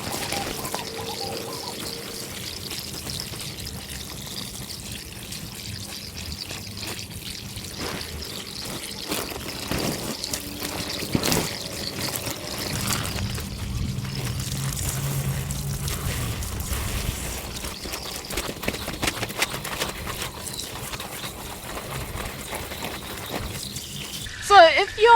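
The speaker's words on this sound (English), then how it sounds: "Now we're gonna hose it down." Water from a hose sprays and splashes steadily over a tent being rinsed down, continuing as a broad wash of noise for a long stretch with some louder bursts near the end.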